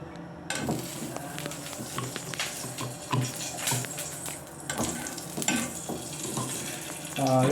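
Mustard seeds crackle and pop in hot coconut oil in a pan for a vegetarian green peas curry, a steady close sizzle scattered with sharp little pops and faint clinks throughout.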